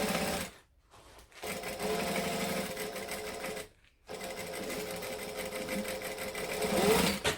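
A sewing machine back stitches the corner of a boom box airliner cabin bag, its needle chattering in fast, loud, even bursts up close, with two short pauses between runs.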